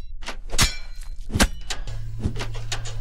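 Repeated weapon strikes land on a training dummy in the video game We Ride, a series of sharp thunks and whacks at an irregular pace. A low steady hum runs underneath.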